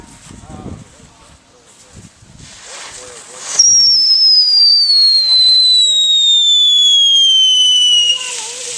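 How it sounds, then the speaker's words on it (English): At a BBQ, fireworks go off: a few scattered pops and crackles under nearby talk, then a long, loud rising whistle from a launched firework that carries on for several seconds before fading. "Regular firecrackers?"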